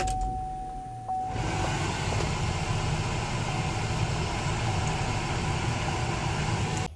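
A 2007-2012 GMC Acadia engine idles steadily after an ignition switch replacement, a constant close low rumble that starts abruptly about a second in and holds to the end.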